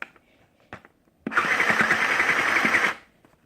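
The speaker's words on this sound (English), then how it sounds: "I'm just going to do a small spot stitch on the two sides." A Sew Cool Glitter Deluxe Sewing Studio toy sewing machine stitches in one short burst of steady, whirring, buzzing motor noise that runs for about a second and a half, after a few faint handling clicks.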